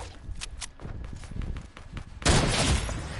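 A sudden loud sniper shot in Fortnite cuts through quieter game footsteps and ambient noise, followed by a burst of broadband impact noise.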